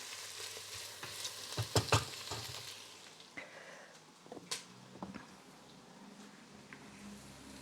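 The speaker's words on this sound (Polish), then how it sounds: "Do cebuli dodaję od razu te dwa ząbki czosnku." Onion and garlic cloves frying in a pan give a soft, quiet sizzle, broken by a few sharp stirring scrapes and clinks near the start and scattered taps later, with no talking.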